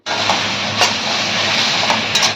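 Onions, chillies and tomatoes with salt and turmeric sizzle steadily in a pan as a potato masala is sautéed, a loud, continuous close hiss with a few brief sharper crackles and no talking.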